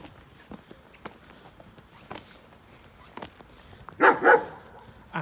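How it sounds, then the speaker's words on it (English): A dog, met as a friendly stray at a run-down train repair station in Hungary, gives two loud close barks near the end after a stretch of footsteps and quiet outdoor ambience. "Hey, a friendly doggy."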